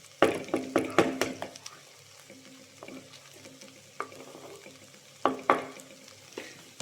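Ivy gourd thoran with coconut is stirred in a pan, making bursts of scraping spatula strokes, a rapid cluster at first and then sparser strokes, over a low sizzle.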